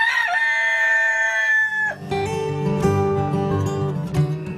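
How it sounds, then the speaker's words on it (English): Rooster crowing loudly and close, one long drawn-out call followed by a second ragged crow with clucking tones, clear and alone without talk. "The rooster that crowed here three times got a permanent memorial."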